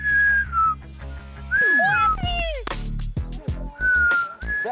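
A person whistles loudly to call ostriches in South Africa, with sustained notes and sliding pitch sweeps up and down, close by, over a low background of other sounds.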